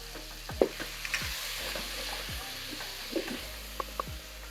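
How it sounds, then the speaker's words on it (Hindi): Vegetables and green chillies fry with yogurt in a pan for bitter gourd and meat curry, a steady close sizzle with occasional scraping stirs and a low droning hum underneath, no voices. "अब आग हल्की करके इसको आप भून लें अच्छी तरह।"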